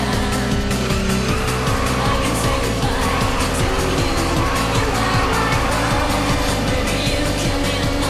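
Race car drifting through a corner in the Initial D Street Stage video game, loud continuous engine drone with sustained tire squeal, steady and close throughout.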